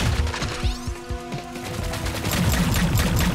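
Rapid gunfire from weapons in the shooter High on Life rattles out in loud, continuous bursts of close shots with no pauses.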